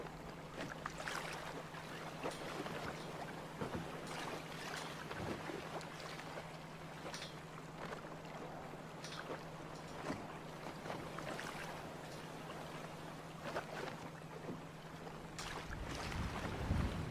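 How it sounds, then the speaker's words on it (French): Junk-rigged sailboat tacking as the sail passes over, heard as steady wind and water noise with soft rustles and flaps, plus a faint low hum, fairly quiet and without speech. "On pousse la barre, la voile passe, il n'y a rien d'autre à faire."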